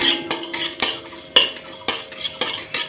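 Panch phoron spices are stirred as they dry-roast in a pan with dried red chilli, giving a quick series of sharp scraping clinks against the metal, about six strokes, close and fairly loud with no talk.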